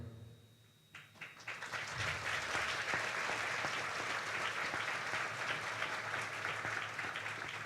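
A Shri Ram Katha audience in New Zealand breaks into applause that swells after a quiet second into a full, continuous wash of clapping, moderately distant and sustained to the end.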